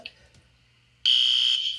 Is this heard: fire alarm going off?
yes